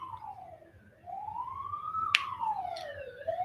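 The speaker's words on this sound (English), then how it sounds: "Oh, there go the police." A police siren wails outside, its pitch sweeping up and down in long slow cycles, heard from indoors at moderate distance over a quiet room, with one sharp click partway through.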